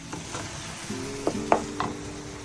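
Prawns fry in oil for pickle with a low steady sizzle, broken by a few sharp scrapes or clinks of a spoon against the pan near the end.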